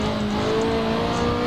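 A Mercedes SLR 300 race car in Assetto Corsa, with a steady, loud engine drone holding high revs in third gear and a faint whine over it, close and continuous with no talk.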